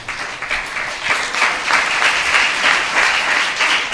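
Church congregation clapping together at a Sunday service, a steady, fairly loud wash of applause that builds slightly and continues throughout without speech.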